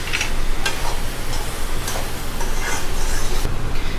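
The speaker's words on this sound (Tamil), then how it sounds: "சால்ட் சேர்த்துட்டு நல்லா கலந்து விட்டுக்கலாம்." Vegetables for a veg pie being stirred in a pan after salt is added, with steady scraping and a soft sizzle beneath, several sharper utensil strokes standing out close up.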